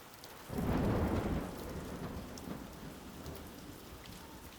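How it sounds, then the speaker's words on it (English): A thunderstorm breaks with a loud, close rumble of thunder that swells and slowly fades into a steady wash of heavy rain, with no voices. "Yep, that was lightning."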